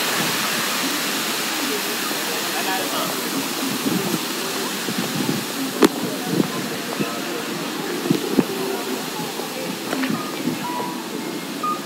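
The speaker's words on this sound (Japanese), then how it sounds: "岡山の噴水" A splashing public fountain in Okayama on a cold day, a steady loud rush of falling water throughout with occasional sharper splashes and no voices.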